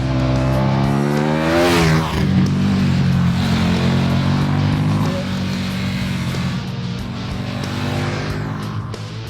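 The 1301cc LC8 V-twin of a 2014 KTM 1290 Super Duke R roars loud and close as the motorcycle accelerates, its engine note climbing and shifting through revs.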